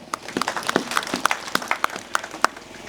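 At a funeral service for Sister Paulina, a small gathering claps to welcome visiting sisters. The claps are sparse and distinct, in a loose, fairly even rhythm, and fairly close.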